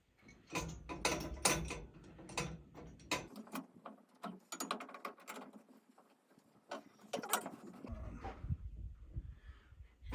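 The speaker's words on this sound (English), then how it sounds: "Basically, I'm just using an adjustable wrench." Adjustable wrench tightening the spring on a mud mixer, giving a run of close, sharp metallic clicks and ratcheting taps in irregular bursts, with a quieter stretch midway.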